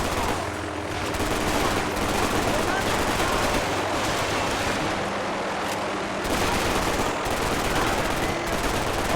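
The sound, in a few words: revolver gunfire in the video game Max Payne 3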